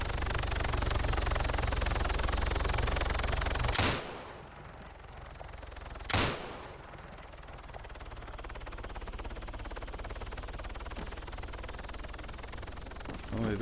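Gunfire in a video game aimed at a helicopter: two sharp, loud shots several seconds apart over a constant rumbling background hum, with no talking.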